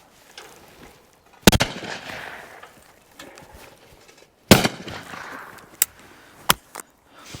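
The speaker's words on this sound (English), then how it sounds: "So let's have a quick shot with it." A Webley side-by-side shotgun fires several sharp, loud reports outdoors at a clay shoot, each shot followed by a rolling echo, with softer pops and thuds between the blasts.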